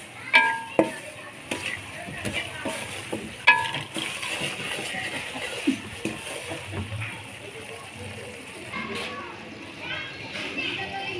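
Semolina stirred and cooked over a low flame for sweet halwa: soft scraping, stirring and light sizzling in a pan, with sharp clinks of a spoon near the start and a speaking voice over it.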